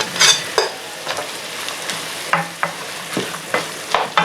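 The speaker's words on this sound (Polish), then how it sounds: "Gdy nasza cebula się już zeszkli, dodajemy e, białą część pora pokrojonego w takie półksiężyce." Onion and white leek slices sizzle and fry in a pan, with repeated scraping stirs over a steady crackle, close and alone.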